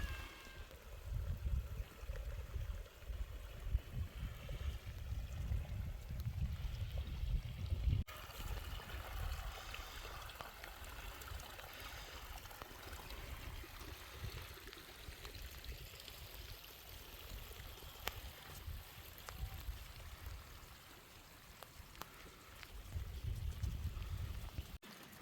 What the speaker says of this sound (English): water will rush through them and overflow